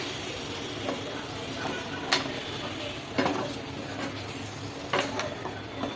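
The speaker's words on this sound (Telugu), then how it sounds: "కలుపుకోవాలి ఇప్పుడు మంచిగా అంతా కలిసేంత వరకు కలుపుకోవాలి" Telangana chicken curry stirred in a pot, with a constant low sizzle and scraping spoon strokes, plus three or four sharper clinks of the utensil against the pot, fairly close.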